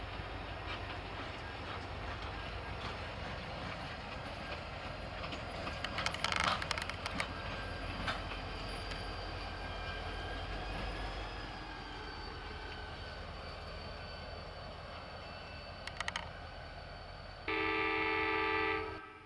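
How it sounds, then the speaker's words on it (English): A Norfolk Southern freight local led by an SD60E, a standard-cab SD60 and an SD40-2 rolls steadily past at moderate distance, a continuous rumble with a brief horn-like burst midway and a short sharp tone near the end. "another local came off of the Midland lead, this time with an SD60E, a standard cab SD60, and another SD40-2."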